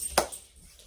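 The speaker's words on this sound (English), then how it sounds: "Do you hear the dogs right now?" A single sharp dog bark stands out at close range, one brief burst followed by quiet room tone with no talk.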